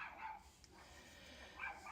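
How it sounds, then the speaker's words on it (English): Dogs bark faintly in the distance, a few soft, scattered yaps barely rising above a quiet room background. "So as you can hear the dogs probably barking in the background"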